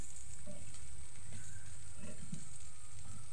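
Cauliflower pieces frying in oil in a pan over low to medium heat, giving a steady, close crackling sizzle with small pops throughout.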